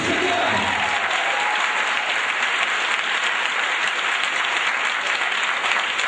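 A church congregation claps together in sustained, dense applause that stays loud and even throughout, with faint voices mixed in beneath the clapping.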